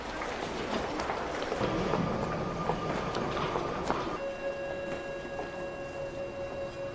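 A train runs steadily throughout, a dense rumbling clatter of rail cars, with a sustained tonal whine or horn-like hum emerging in the second half.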